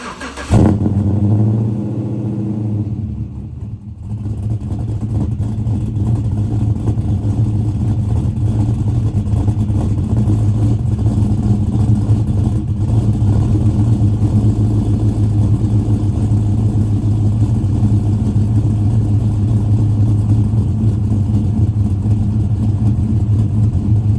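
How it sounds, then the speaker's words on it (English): A cammed 5.3 truck engine with a new exhaust cold-starts with a sharp burst, briefly cuts out, then settles into a loud, lumpy, loping idle that holds steady for the rest of the clip. "Let's get this cold start, and then I can probably get you guys some revs"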